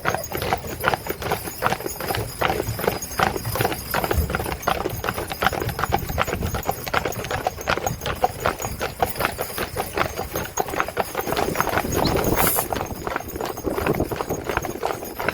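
Hooves of a four-horse hitch team pulling a wagon at a farm park clop steadily on the ground, a dense continuous rhythm of overlapping hoofbeats close by, with a faint voice and a brief squeal near the end.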